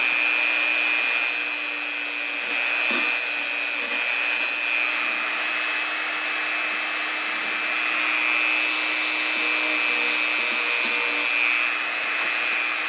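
A Harbor Freight tool cleans the top surfaces of a chainsaw chain with a continuous, loud, high-pitched grinding whine that holds steady throughout, with no talking.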